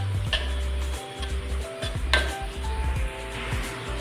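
A spoon stirring grated coconut with sugar and cardamom in a pan, with scattered clinks and scrapes of metal against the pan over a soft sizzle, close by.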